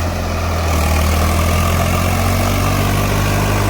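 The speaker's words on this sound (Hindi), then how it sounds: "देखो भाइयों मैं आपको ट्रैक्टर की परफॉर्मेंस दिखाता हूँ अब ट्रैक्टर की" A tractor engine starts and settles into a loud, steady low idle, its deep chugging hum continuous and close, with no talk over it.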